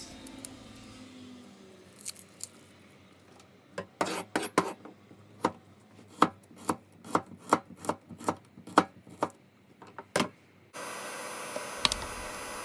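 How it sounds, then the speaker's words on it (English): A knife chops rapidly on a cutting board, a run of sharp close taps about a dozen strong, followed by a burst of hissing noise. "peel the garlic and slice into small pieces"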